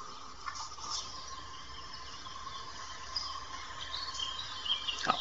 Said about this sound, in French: les petits oiseaux que vous entendez, c'est le téléphone qui retransmet le son que j'ai pris sur la vidéo